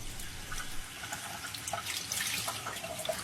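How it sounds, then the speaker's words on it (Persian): Water runs steadily from a kitchen tap, a continuous hiss and splash close by, with small drips and clinks through it as dishes are washed. No one speaks. "یهو صدای شیر آب رو شنیدم که از سمت آشپزخونه می اومد"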